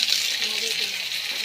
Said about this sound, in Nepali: प्याजहरु हालेर ओरेर अब यसलाई एकछिन भुट्छु म।